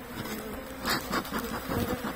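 Honey bees buzz at an early-spring hive being fed sugar-honey paste, a steady close hum with several louder passes of individual bees droning by.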